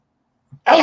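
A single short sneeze, preceded by a faint quick intake of breath, close and clear against silence.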